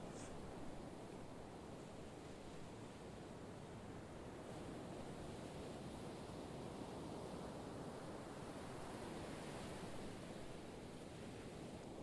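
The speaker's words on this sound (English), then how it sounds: "Just the sound of the waves" Ocean waves wash in a continuous, soft roar of surf that stays steady and even throughout, with no voices over it.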